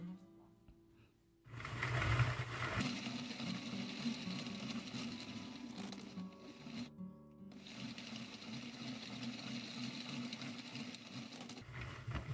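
A Sentro knitting machine being cranked by hand, a steady close mechanical whirring and clattering that runs continuously, dipping briefly at one point before resuming, with no talking over it.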